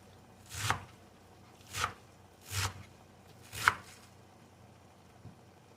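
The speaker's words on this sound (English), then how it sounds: "I'm chopping up some fresh spinach to throw in the mix." A knife chops through fresh spinach on a board, four soft, evenly spaced cuts with a faint fifth, quiet and close.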